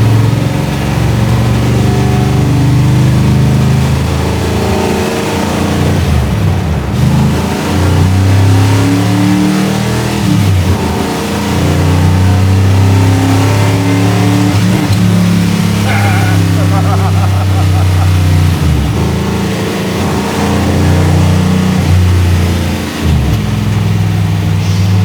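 A NASCAR-inspired Dodge Charger with a 472 HEMI V8 revs and rumbles loudly from inside an unsound-deadened cabin, with repeated throttle blips and a steady heavy engine drone throughout; people talk over it.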